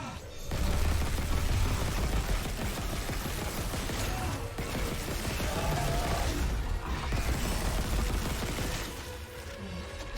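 Sustained gunfire in the Dead Space Remake, dense rapid shots and crashing impacts piling up continuously for about ten seconds amid loud game action.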